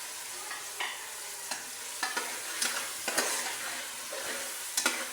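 Tomatoes, green chillies and browning onion fry with spices in a pan for chicken korma, a quiet steady sizzle broken by repeated sharp scrapes and taps of a spoon stirring.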